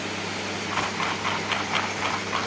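A model engine built from LEGO pieces, running steadily after being kickstarted, gives a continuous mechanical hum with a rattling, rhythmic pulse, close and fairly loud, with no voices.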